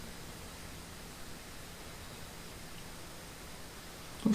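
A toilet refills after a Fluidmaster fill valve replacement, giving a steady, even rushing-water hiss throughout, moderately quiet and close, with a small knock right at the end.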